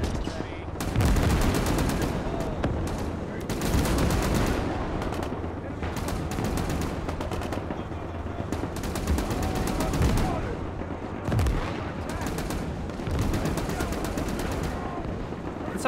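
Sustained gunfire and repeated shots ring out as troops assault fortified hilltop defenses in the WWII game Gates of Hell, with M55 airborne tanks involved; dense bursts and volleys continue throughout, loud and close, with faint voices underneath.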